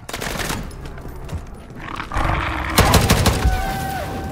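Rapid gunfire bursts loudly in Call of Duty MW3's zombie mode, a video game, with heavy volleys building toward the end amid roars and chaotic battle noise.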